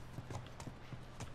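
Horse hooves clip-clop at a slow walking pace in The Last of Us, a handful of soft, evenly spaced footfalls close by over a steady low hum, with no voices.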